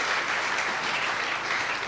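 A church congregation applauds and cheers in acclaim of Jesus during a sermon, a dense, steady wash of many clapping hands filling the whole moment without pause.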